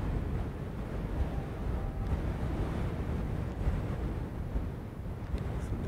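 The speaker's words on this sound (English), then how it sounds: "Wind is picking up again." Steady outdoor wind buffets the microphone at an F5J electric glider contest in Holič, Slovakia, a continuous low rumbling roar that fills the whole stretch with no talk.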